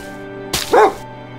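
A single short dog bark rings out once, close and clear, over a steady musical background in a German film trailer about dogs.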